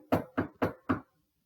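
Four evenly spaced knocks in about one second, a person rapping on a surface that is not wood to imitate knocking on wood. The raps are close and crisp, with no talking.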